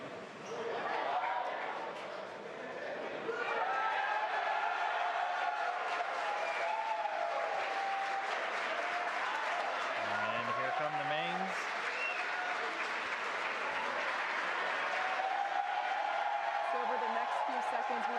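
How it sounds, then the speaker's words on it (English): SpaceX employees cheering and clapping around Mission Control at headquarters during a Crew Dragon capsule's re-entry and splashdown, a distant, sustained crowd roar under a commentator's voice. "You can hear cheering here at SpaceX headquarters as the employees that have gathered around our Mission Control"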